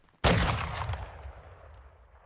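A sharp burst of gunfire in the Warzone Mobile video game, one loud close crack leading into a short rattling volley that fades into an echoing tail.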